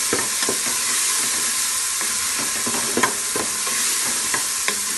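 Tomatoes sizzle and fry with green beans (lobia phaliyan sabzi) in a pan, a steady close hiss broken by repeated soft scrapes and taps of a spoon stirring through the mixture.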